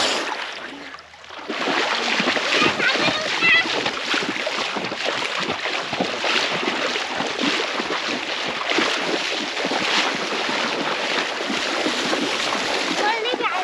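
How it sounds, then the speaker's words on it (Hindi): A child swimming in cold water at the Jhoraghat picnic spot near Chhuri, with continuous close splashing and churning water and wind buffeting the microphone, while people talk over it. "अरे वाह, मेरे बेटे को तैरना भी आ जाता है।"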